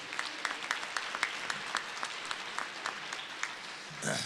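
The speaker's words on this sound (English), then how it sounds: "Would you give him a round of applause?" Graduation guests at a college commencement ceremony give a short round of applause, with scattered crisp claps ringing steadily at moderate distance before a brief rush of noise at the end.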